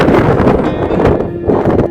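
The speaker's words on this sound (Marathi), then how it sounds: "जोराचा वारा सुटला इथे" Strong wind on the Bitangad–Vishramgad trek buffets the microphone in heavy, rumbling gusts that rise and fall, loud and close throughout.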